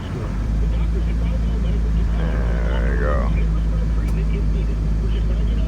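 A car engine runs steadily at around 1500 RPM with the hood up, a constant low hum and drone filling the clip while someone speaks briefly over it.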